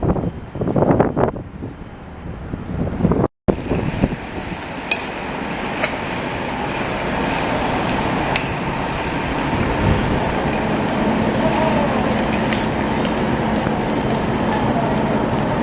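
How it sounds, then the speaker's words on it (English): Strong wind on a city street, a loud continuous roaring rush buffeting the microphone for the whole stretch, with a brief dropout early on and faint knocks scattered through it. "Ah, Jesus, it's windy today."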